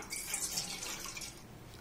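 Water draining off soaked dal in a kitchen, a bright continuous splashing pour that runs steadily and fairly close, fading slightly toward the end, with no talk.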